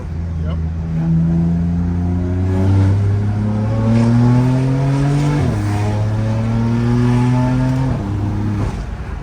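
A BMW M car engine revs and climbs through the gears with a deep intake growl, dropping and rising again as it shifts, loud and close inside the cabin.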